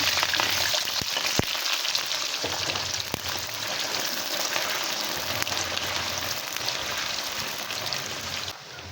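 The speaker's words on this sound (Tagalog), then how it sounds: "Pagkatapos ay prito muna natin yung ating carrots." Carrots and radish frying in hot oil make a loud, continuous sizzle with scattered pops and crackles throughout, steady and close.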